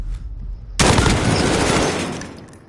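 Loud burst of gunfire in Black Ops 2 erupts after a quiet moment and rolls on as a dense, sustained volley that slowly fades.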